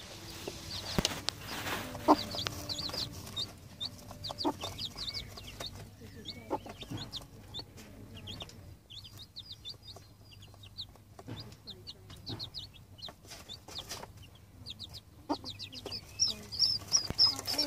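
A hen and her chicks on a homestead poultry farm cluck and peep in frequent short, high calls over a steady low background hum, with a few louder bursts and some talking in the mix.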